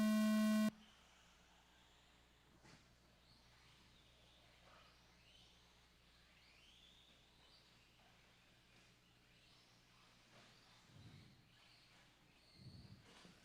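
A loud electronic start tone sounds at an off-road dirt RC car race track. It is a short steady beep at the very beginning, followed by faint distant ambient noise with no talking.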